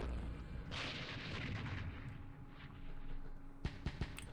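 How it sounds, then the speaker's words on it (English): Small mortars fire in a war video game, faint and distant: a rushing blast fades out, then several sharp thumps follow in quick succession. "These are small mortars."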